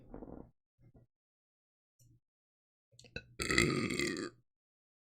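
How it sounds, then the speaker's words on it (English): A loud, drawn-out burp erupts alone partway through, preceded by a few faint scattered noises and followed by quiet. "The burps are back, baby."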